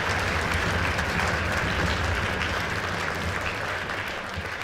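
An audience at a school band concert gives a loud, sustained round of applause that fills the hall and eases off slightly toward the end.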